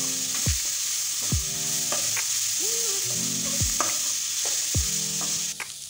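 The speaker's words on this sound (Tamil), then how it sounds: "சேர்த்துட்டு கேரட்டு வேகிற அளவுக்கு நம்ம வதக்கிக்கலாம்." Onion and carrot sauté in a hot pan with a continuous bright sizzle, punctuated by repeated spatula knocks and scrapes at a loose rhythm, close up with no talking.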